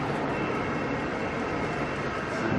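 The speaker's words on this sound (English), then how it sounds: "There goes a tram." Steady rolling rumble of a light-rail tram running close alongside a moving train between Helensvale and Nerang on the Gold Coast, loud and continuous with no voices.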